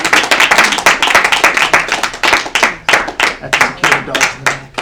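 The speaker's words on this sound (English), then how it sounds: "one more round of applause for Mignon for a fantastic feature" Audience clapping for poet Mignon Ariel King after her feature at Stone Soup, a burst of close, crisp handclaps with uneven rhythm that holds steady and tapers slightly near the end.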